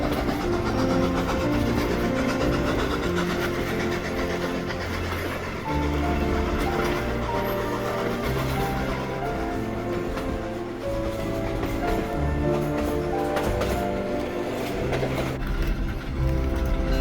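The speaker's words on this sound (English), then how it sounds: "This was our first taste of a real steam locomotive" A steam locomotive hauls its train along the Zig Zag Railway, a loud, continuous rumble of engine and rolling wheels with rhythmic clanking that runs throughout without speech.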